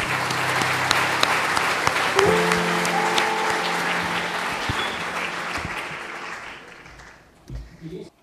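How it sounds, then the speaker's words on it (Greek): Audience at a Greek readers' awards ceremony applauding Chara Marantidi for her presentation on children's and teen books, sustained clapping with a brief voice in the middle, fading out toward the end. "Θα ήθελα πρώτα απ' όλα ένα χειροκρότημα για τη Χαρά Μαραντίδη"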